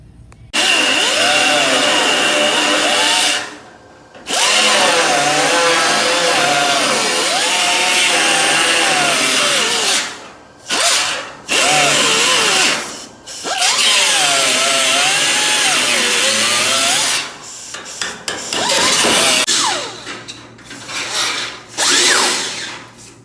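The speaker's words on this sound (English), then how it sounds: "I grind it out of there with a body grinder" A body grinder bites into metal on the fuel cell compartment of a 1988 NASCAR Winston Cup Buick Regal, loud and close, running in long whining bursts with short pauses and pitch wavering under load.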